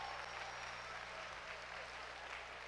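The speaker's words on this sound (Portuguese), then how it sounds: "Uma salva de palmas, Matheus, cara inteligente, bicho." Audience applause rising at a church gathering, dense and steady clapping from a crowd that fills the whole stretch without a break, fairly loud and close, with no talk over it.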